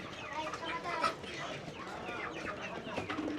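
Native (desi) chickens cluck repeatedly amid a busy city market din, with people talking and general crowd noise around them.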